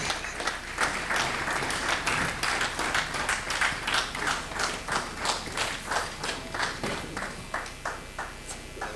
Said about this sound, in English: Please applaud him as he comes.